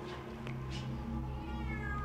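A cat meows indoors, a few drawn-out, wavering calls over a steady low background hum, fairly close and clear.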